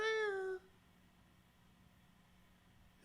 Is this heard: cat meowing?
yes